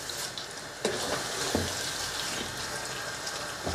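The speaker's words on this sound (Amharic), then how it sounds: "ውሃውን ቀስ አድርጌ አንጠፍጥፌ ደፋዋለሁ።" Water poured slowly off a cooking pot while making chicken biryani, a steady soft splashing stream with a few small clinks, faint and continuous.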